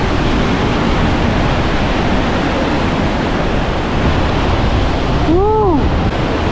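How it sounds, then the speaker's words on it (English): Heavy spring snowmelt from a record snowpack thunders down a Yosemite waterfall, a loud, steady roar of falling water with no break, joined near the end by a brief whooping voice. "that's why you see all this water coming down from the snowpack melting"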